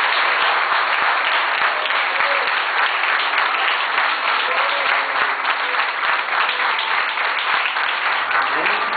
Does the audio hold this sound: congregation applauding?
yes